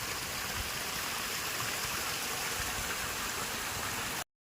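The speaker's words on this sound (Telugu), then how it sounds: "ఇదే మా చిన్న వాటర్ ఫాల్" A small waterfall pours steadily, a constant rushing splash close by that holds even until it cuts off abruptly at the end.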